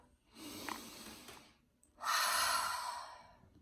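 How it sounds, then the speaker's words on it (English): A person takes a big breath in during a children's calming exercise: a soft breathy sound, then a louder, fuller inhale of about a second and a half, close and alone. "we're going to pause and we're going to take a big breath in"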